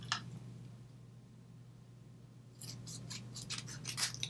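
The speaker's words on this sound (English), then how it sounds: "I'm going to cut this in half again" Scissors snip through a paper Valentine's Day gift tag, cutting it in half: a run of quick, crisp snips close by, preceded by a brief snip and a stretch of near silence with a steady low hum.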